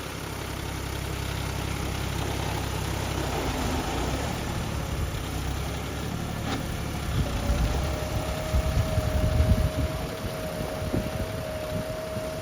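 A four-wheel tractor's engine runs steadily at close range, a low continuous rumble that swells slightly toward the end, with a faint whine joining partway through and no talk.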